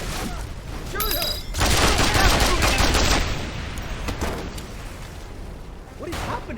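Rapid automatic gunfire in the Mercenaries 2: World in Flames video game, dense bursts of shots that swell loud in the middle and keep rattling, with shouting voices over the battle.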